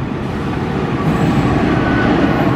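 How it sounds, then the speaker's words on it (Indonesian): An Argo Parahyangan express hauled by a CC 206 locomotive runs straight through a station without stopping, a loud, steady close roar of wheels and carriages with faint squeal and clatter. "Jalur 2 melintas langsung kereta api Argo Parahyangan spesial lokomotif Hype Trip dari Bandung tujuan"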